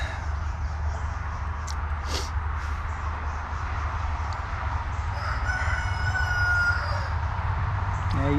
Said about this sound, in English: you tell him, old rooster